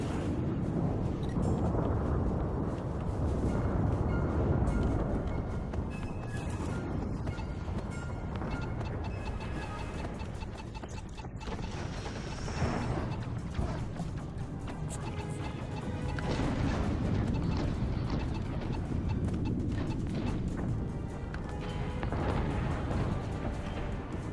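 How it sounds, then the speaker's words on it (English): Missiles striking a spaceship in the space combat game Infinity: Battlescape, a dense, continuous roar of heavy crashing impacts and rumbling detonations, loud and sustained with no talking. "Let's see if we can dummy fire missiles right into him."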